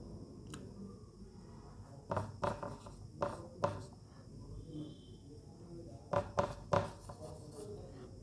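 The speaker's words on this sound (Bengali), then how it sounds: "তো আগের যে সেন্টেন্সটি লিখেছি আমি ওটিই লিখে দিচ্ছি" A pen scratches across paper as a sentence is written by hand, with soft strokes broken by sharper taps and clusters of quick marks over steady faint room noise.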